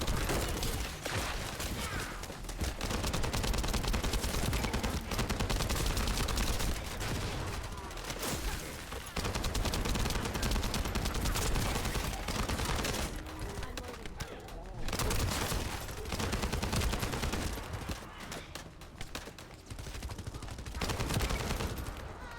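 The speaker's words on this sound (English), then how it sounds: "this gun has a lot of kick to it" Rapid, dense gunfire from a hard-kicking gun in The First Descendant rattles almost continuously in loud sustained bursts with brief pauses, while a voice talks over parts of it.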